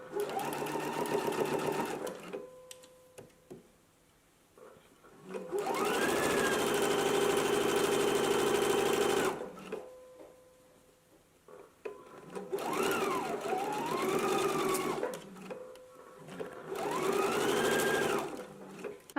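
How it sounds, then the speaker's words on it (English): A home sewing machine stitches a waistband seam at a 5/8 inch allowance, running in three long bursts of steady whirring with short pauses between, close and clear with no talk. "we can go ahead and stitch this in place at a 5/8 of an inch seam allowance"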